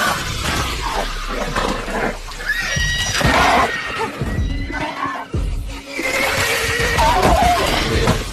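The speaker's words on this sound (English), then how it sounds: "the war horses outside suddenly roared." War horses neigh and whinny loudly and close, several overlapping calls with sharp rising cries, alongside crashing, shattering impacts in a dramatic fantasy battle sound effect.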